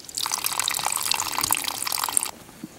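Cold mountain spring water pours from a bamboo spout on a forest hiking trail, a steady close splashing trickle that runs for about two seconds before dropping away to a quiet drip.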